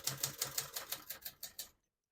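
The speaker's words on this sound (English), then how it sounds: "all the keys type nice and none of them skip or stick" A 1974 Adler J5 portable typewriter is typed on, about ten crisp, evenly spaced key strikes clacking close up before falling silent.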